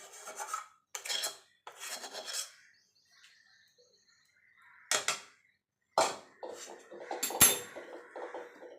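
Raw mango pulp being stirred in a pan for a homemade mango bar, heard as close, scraping rasps of a spoon against the pan in short separate bursts with quiet gaps between them, plus a few sharper clinks.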